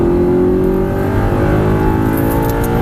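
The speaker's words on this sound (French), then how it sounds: "Vas-y, accélère un petit peu." A car accelerates on a track, its engine a loud, steady droning whir climbing gently in pitch, heard close throughout with no talk.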